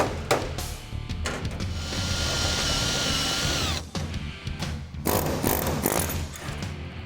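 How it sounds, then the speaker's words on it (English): An air hammer with a chisel bit chatters against spot-welded sheet metal on a rotted 1970 Dodge Challenger roof, running in loud sustained bursts with brief pauses and metallic scraping between them. "Tommy is alternating between cutting spot welds and peeling off the metal with the air hammer"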